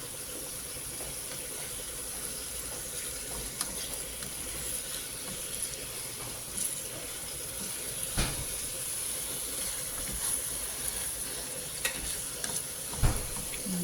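Tuna with tomato paste and lemon being stirred in a cooking pan, a low steady sizzle and hiss with occasional scrapes and knocks of the spoon, fairly quiet and without talking.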